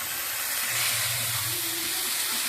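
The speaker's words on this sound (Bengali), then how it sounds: "দেখো এখানে আলু ভাজা হচ্ছে আর এখানে হবে ডাল" Potatoes fry in a pan with a steady, close, continuous sizzling hiss that holds level throughout, with no talking.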